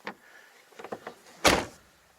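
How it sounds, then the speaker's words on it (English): A creaky car door that needs oiling: a faint squeak and a few light clicks, then one solid, loud thunk close by. "Door needs a bit of oiling,"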